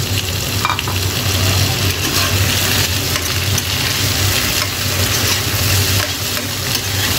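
Shrimp frying in a pan for Filipino ginataang hipon, a loud, steady sizzle with occasional stirring scrapes running unbroken throughout.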